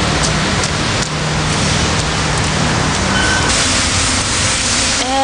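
Steady, dense rainfall, a loud continuous hiss that stays constant throughout with no break, close by and heard on its own.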